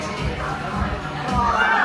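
An audience cheers for Cooper, a short burst of crowd shouting and mixed voices that swells slightly toward the end, heard up close.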